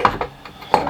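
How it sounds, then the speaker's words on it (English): A golf club is clamped into a metal vise with a few light mechanical clicks and knocks as the jaws are cranked tight, close and fairly quiet. "secure your club in a vise"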